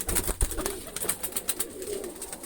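Pigeons coo in a loft, soft repeated low calls close by, with brief fluttering and shuffling noises in between.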